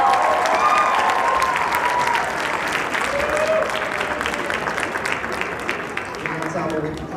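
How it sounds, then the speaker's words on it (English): Audience applause for a symphonic band at a high school spring concert. Dense, sustained clapping fills the hall at full volume for several seconds, then eases slightly toward the end. "How about one more round of applause for Symphonic Band?"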